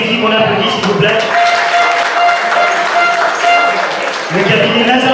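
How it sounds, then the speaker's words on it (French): Audience applause for a sponsor company at the Paris PAM 2016 event, steady clapping filling the room for several seconds, with a voice talking over it at the start and end. "qu'on applaudit s'il vous plaît."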